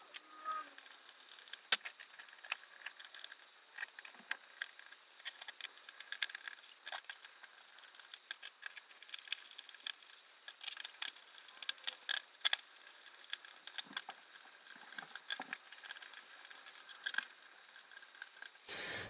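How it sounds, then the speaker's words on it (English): Small screws are fitted into a PC radiator mount, giving sparse, faint metallic clicks and ticks at irregular intervals over a quiet background. "So take 5 seconds here and just quickly put the screws in."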